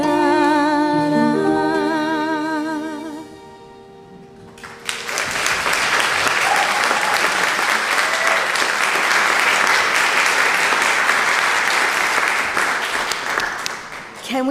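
A church congregation at a Sunday morning worship service applauds the band, a dense, loud wave of clapping that swells in after a sung chord fades and holds steady for about ten seconds before tapering.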